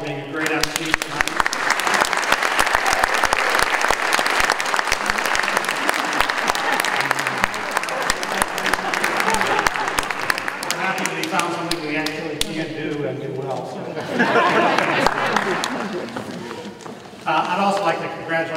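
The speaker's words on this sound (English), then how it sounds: "give him a warm round of applause for being a great MC tonight" A Hall of Fame induction audience gives a warm, sustained round of applause for the evening's MC, steady dense clapping that later thins as voices and a speaker come in over it.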